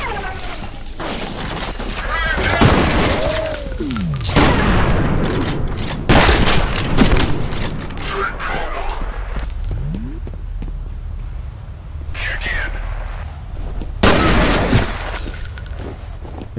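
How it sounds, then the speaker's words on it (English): Enemy plasma guns firing in the shooter game FEAR, a dense volley of loud, punchy bursts and crashes in waves, with heavier clusters near the start, middle and end, over constant battle noise and some voices. "These dudes are no joke with these fucking plasma guns."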